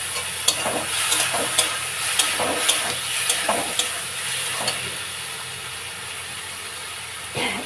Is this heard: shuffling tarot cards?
no